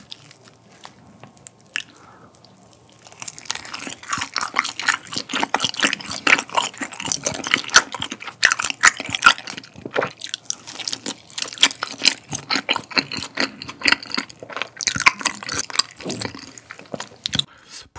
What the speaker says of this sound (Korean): 그럼 이제 분모자 한번 먹어볼게요.